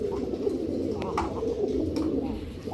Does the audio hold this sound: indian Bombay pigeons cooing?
yes